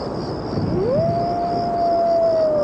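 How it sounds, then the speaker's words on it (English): A werewolf gives one long, sustained howl that rises and then holds steady under heavy reverb, set against a constant low background hum. "He's getting some healthy reverb off of his howling."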